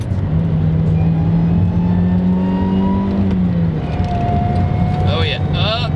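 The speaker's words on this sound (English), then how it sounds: "Downshift." A supercharged Honda CR-Z engine hums steadily and climbs in pitch as it revs after a downshift, then drops back, with close voices talking over the cabin noise.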